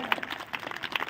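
Audience applause for a disciple on a large Ramlila stage in Haryana: a short, moderately loud burst of scattered clapping with uneven crackling hits.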